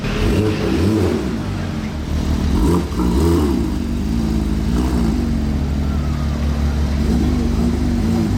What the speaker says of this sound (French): On dirait vraiment une voiture de course